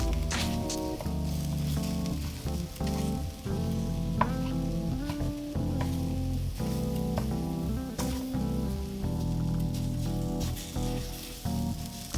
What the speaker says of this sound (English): I just cut it into pieces with the spatula and cooked the rest like that